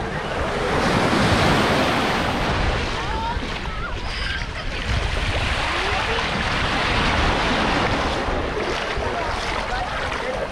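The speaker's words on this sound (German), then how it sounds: "Jetzt sind wir am Strand angekommen." Waves break and wash onto a beach in Belek, Turkey, a loud, continuous surf roar mixed with wind buffeting the microphone, steady and close throughout.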